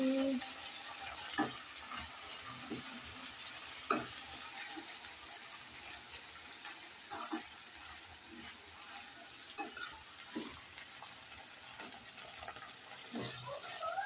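Green chillies, mint and coriander fry in oil with a soft steady sizzle, punctuated by occasional sharp clinks and scrapes of stirring, fairly faint and without voices.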